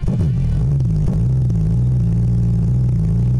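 Simulated W12 engine from a land speed record car running in Engine Sim, a loud, steady, slightly lumpy low rumble that rises briefly at the start and then holds an even drone throughout.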